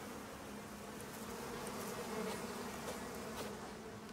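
Bees buzzing in the survival video game Icarus, a steady droning hum of several insects that stays fairly faint and continuous, with no talk over it.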